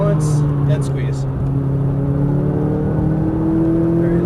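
A McLaren 570S sports car accelerates at full power on a track, its engine holding a steady loud drone with rising harmonic tones heard from inside the cabin, while a voice talks over it.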